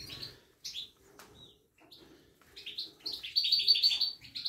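Goldfinch chicks in a nest give high, thin chirps in short bursts, growing busier and louder toward the end, close up, with faint rustling between calls.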